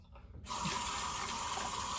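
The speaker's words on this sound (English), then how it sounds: "Throw that under the water and get rid of the excess." A shaving brush is rinsed under a running tap; after a quiet moment the water starts abruptly and keeps up a steady, close hiss.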